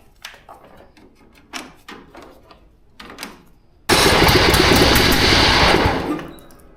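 An old ride-on mower first gives several sharp mechanical clicks and knocks, then its engine cranks in a loud, steady churning burst lasting a couple of seconds before it cuts out and fades, with no talk.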